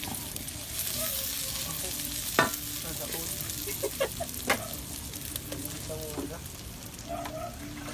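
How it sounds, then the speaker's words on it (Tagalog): Onion and garlic sautéing in a pan: a constant close sizzle with several sharp utensil scrapes and knocks against the pan, while faint voices and background sounds stay low underneath. "Sibuyas, bawang, loya. Igisa muna."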